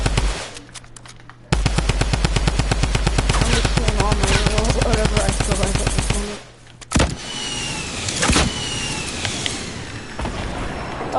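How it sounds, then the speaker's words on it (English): Rapid automatic gunfire from a shooting video game rattles in a long, loud, evenly spaced burst, then cuts off into scattered single shots and clatter. "I'm just shooting all my ammo, whatever I feel like at this"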